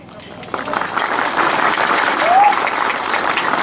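An audience claps steadily through a community gathering with crowd noise, rising after the first half second and holding at a fairly loud level.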